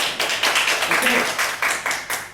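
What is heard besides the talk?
audience applause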